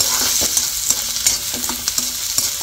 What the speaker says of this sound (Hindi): तो अब इन सबको थोड़ा थोड़ा हम चला लेंगे इसके अंदर, हल्का सा फ्राई कर लेंगे इसमें।